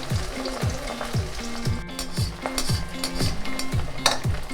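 Freshwater pomfret fish frying in hot oil, a steady loud sizzle with rhythmic scraping pulses of stirring or spatula strokes close by, no talking.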